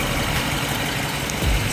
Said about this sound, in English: now that the engine's running smoothly